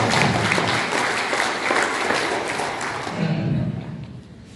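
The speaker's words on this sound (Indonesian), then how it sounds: "Mari kita tepuk tangan dulu." Applause from an audience at a handover ceremony for the Kodim 1621/TTS district military commander with local government officials, a steady clatter of clapping that fades toward the end.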